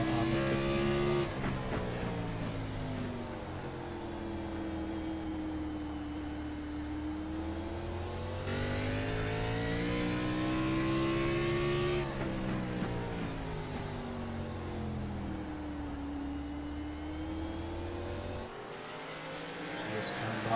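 Race cars lapping a circuit late in the race, engines droning steadily with rising and falling pitch sweeps as they pass, continuous and fairly loud throughout, with commentary voices running over the engine noise.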